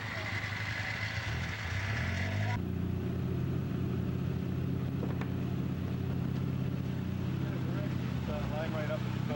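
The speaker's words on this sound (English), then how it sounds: "Some rowdy snowmobilers here making some noise." Snowmobile engines rev and idle in a rowdy burst at a winter motorsport event, a loud engine tone dropping sharply partway through and then droning on, with people talking underneath.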